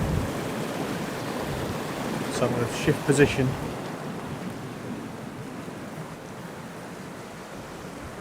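Turbulent river water rushes steadily while a strong downstream wind buffets the microphone during tenkara fly fishing, and someone speaks briefly over the noise near the middle.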